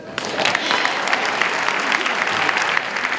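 A crowd at a high school senior pinning ceremony applauds, a steady roar of many hands clapping at moderate loudness across the whole stretch, with a few sharper claps standing out.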